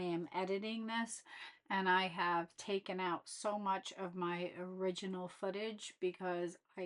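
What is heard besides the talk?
No everyday noise stands out behind the speech.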